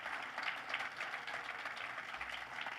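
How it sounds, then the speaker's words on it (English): Applause from an audience at a university Black History Month opening ceremony, a steady, dense wash of clapping that holds at an even level the whole time with no voices over it. "we must give them another round of applause and thank them very much"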